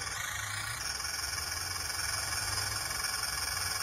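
A remote-control toy tractor motor whines steadily and close, with a high electric tone running across the whole short stretch.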